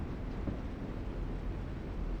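Train ambience in a Walking Dead game scene: a low, steady rumble of a rail car with faint rolling texture, quiet and continuous, with no voices over it.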